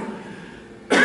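After nearly a second of quiet room tone, a single close, abrupt cough bursts out at the very end and is cut off.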